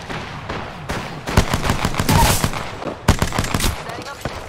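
Automatic weapon fire in Apex Legends comes in rapid bursts: one long volley, a short pause, then another burst, loud and close, with spoken voice lines mixed in.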